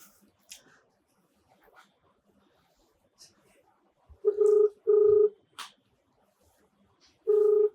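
Touch-tone telephone dialing: a few sharp, loud keypad beeps in an irregular sequence over quiet background with soft clicks, as an unanswered call is placed.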